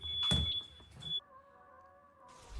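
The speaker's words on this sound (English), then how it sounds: "Why is the smoke alarm going off?" A smoke alarm sounds a steady, piercing high beep for about a second over some bumps and rustle, then cuts off, leaving a quiet low hum.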